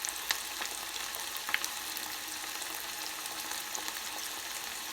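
Chicken tails deep-frying in oil make a continuous, even bubbling sizzle with occasional sharper pops, steady and moderately quiet, with no voices.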